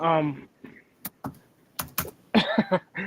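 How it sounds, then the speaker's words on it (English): Brief clicks of typing on a computer keyboard come in short scattered bursts between stretches of someone talking, close and moderately loud. "while you're typing"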